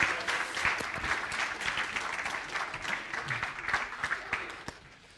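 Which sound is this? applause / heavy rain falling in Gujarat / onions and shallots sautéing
applause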